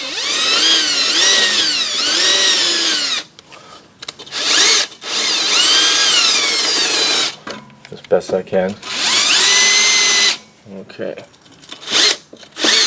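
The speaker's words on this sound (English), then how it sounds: "Take a little drill and just get it onto the threads a little bit." A small power drill whines in several bursts of rising and falling pitch while working on rusty stabilizer end link threads on a 2007 Pontiac G6, with short pauses and someone speaking briefly between bursts.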